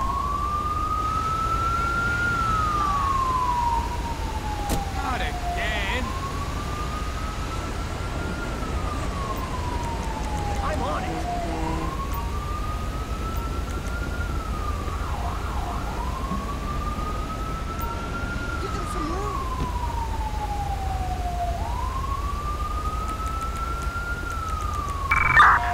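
A wailing ambulance siren in GTA V responding code 3, rising and falling in a repeated slow sweep about every five seconds over a low steady engine rumble, with no talk.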